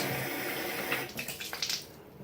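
Water from a tap rinsing wet blush out of a makeup cleaning tool, a steady splashing rush that turns into uneven gurgles and splatters near the end, with no voices.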